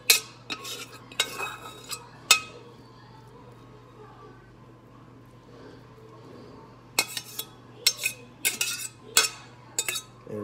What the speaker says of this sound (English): I just sauteed my shrimp and my crab together